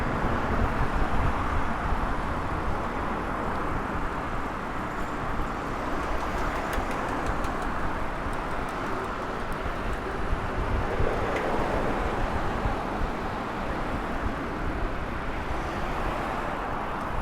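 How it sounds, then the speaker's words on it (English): Heavy traffic on a busy road in Japan gives a continuous loud roar of passing cars and trucks, dense and close throughout with no breaks, heard from the sidewalk. "this is a really heavily trafficked road"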